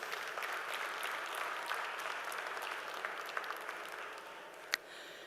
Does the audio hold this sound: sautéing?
no